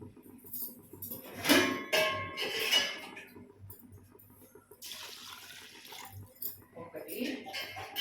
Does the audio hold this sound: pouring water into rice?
yes